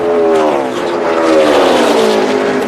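NASCAR stock cars at Texas roar past loudly and steadily in a continuous engine drone with shifting pitch as a driver lifts off the throttle, close and dense, no voices.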